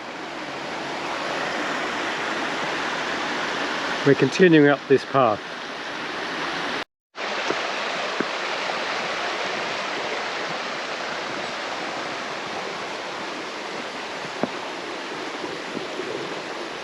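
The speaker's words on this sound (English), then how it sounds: "Alongside us is the East Okehampton River." The East Okehampton River flows beside a walking path, a steady broadband rush of water heard throughout, with someone briefly speaking over it.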